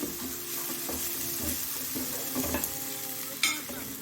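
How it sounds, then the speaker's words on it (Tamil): Onions sautéing in a pan while cooking kasuri methi malai chicken, a soft continuous sizzle with a few stirring scrapes and a sharper clink near the end, close and unaccompanied by voices. "நல்லா வெங்காயம் வதங்கிடுச்சு"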